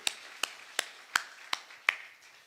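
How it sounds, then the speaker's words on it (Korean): Church congregation at a Sunday worship service claps in slow, evenly spaced single claps, six crisp hits about a third of a second apart, moderately distant and unaccompanied by voices. "하나님께 박수를."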